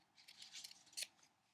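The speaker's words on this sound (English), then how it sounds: "Just get your scissors and cut straight on the line." Scissors snip through fabric along a marked line for quilt piecing, a few quiet cuts followed by one sharp, close closing snip at the end.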